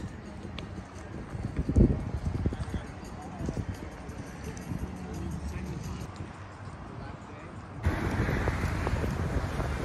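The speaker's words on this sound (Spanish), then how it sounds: "Una vez que los caballos retornan a este tráiler" Horses walking back to a trailer near a beach in Bradenton, Florida, their hooves clip-clopping steadily at close range, with gusty wind noise against the microphone and voices in the background.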